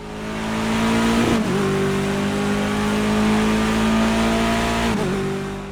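BMW 320 touring car engine in a racing video game at Zolder, a loud sustained near drone with steady pitch, briefly dipping twice as the car shifts gears, with no voices.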